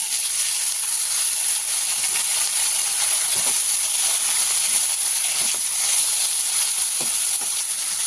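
Diced potatoes hit a pan of fried onions and sizzle in a steady, loud, bright hiss, with occasional faint clicks of stirring underneath.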